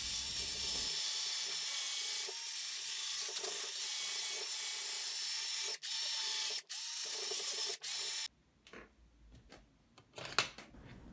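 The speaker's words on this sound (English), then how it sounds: "I just use a cordless drill with a wire brush bit to remove the surface rust and dirt." Cordless drill spinning a wire brush bit against a rusty motor case, a loud continuous abrasive whir broken by three brief stops, then ending in quieter clicks and handling knocks.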